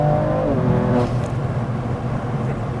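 BMW M2 Competition with a Stage 2 tune making 630 hp accelerates hard on a winding road, a loud, steady engine roar with a rising then settling pitch filling the whole stretch, close and unbroken.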